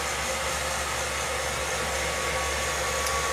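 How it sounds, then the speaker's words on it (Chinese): A hair dryer running indoors gives a steady, even blowing whoosh with a faint motor whine, continuous and close, with no speech over it. "你在这边啊，帮你吹风机。"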